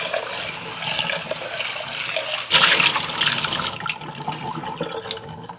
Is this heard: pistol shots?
no